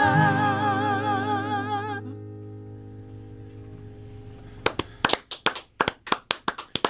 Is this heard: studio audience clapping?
yes